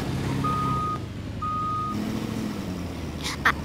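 A reversing truck in the Fortnite video game gives two evenly spaced electronic beeps over a steady engine rumble.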